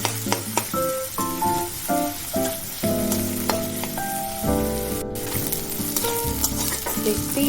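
Potatoes fry in oil in a pan, a soft steady sizzle sitting low beneath prominent background music with sustained melodic notes throughout.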